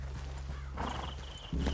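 Horses in Red Dead Redemption 2 snort and whinny close by while hooves clop on the ground, with a low rumble underneath and a sharp neigh near the end.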